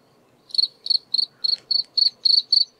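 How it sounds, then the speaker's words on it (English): A cricket chirps from a phone sound-effects app: eight evenly spaced, crisp trilling pulses in a steady rhythm, close and clear with no other sound. "And there's a cricket."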